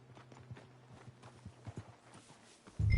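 Horse hooves clip-clop at a walking pace in Red Dead Redemption 2, a steady run of light thuds close by over a low hum, ending in a sudden louder burst.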